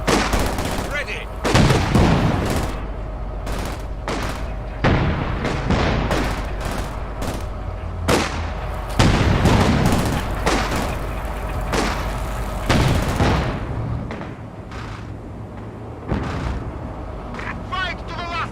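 Field gun artillery in a video game fires repeatedly in heavy booming blasts, several loud shots spaced irregularly across the stretch, mixed with other gunfire and explosions while voices talk throughout.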